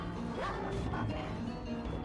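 Dogs barking in the game Tower of Fantasy, a few sharp barks and a rising yelp over dense game noise and music.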